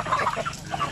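Chickens and newly added chicks cluck on a farm, a close, busy burst of short clucks and peeps packed into about a second, with no talking.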